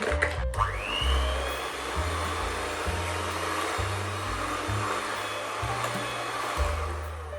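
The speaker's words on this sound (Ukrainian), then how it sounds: "І знову міксером все перемішуємо" An electric hand mixer beats egg yolks into a pumpkin cookie batter, a steady high motor whine that dips and rises as it works through the dough, close and continuous after a short start-up.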